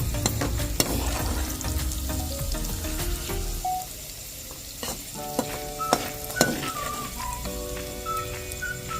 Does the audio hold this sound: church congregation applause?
no